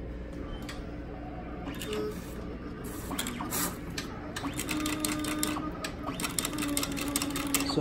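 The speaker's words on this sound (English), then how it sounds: "So it's doing its priming and cleaning." A Roland FJ-50 wide-format printer runs its priming and cleaning cycle, giving off rapid mechanical whirring and ticking, bursts of clicks and a steady motor drone, heard close with no voices.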